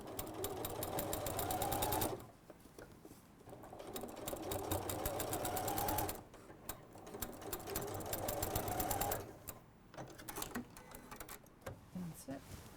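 A sewing machine stitching the side and bottom seams of a large bag, running fast and loud in long bursts of steady rapid needle clatter separated by brief pauses with soft handling noises.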